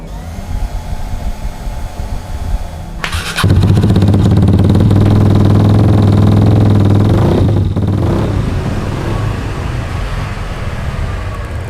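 A motorcycle engine with lightened variator rollers idles, then jumps into loud, sustained revving close by before easing back to a rougher idle.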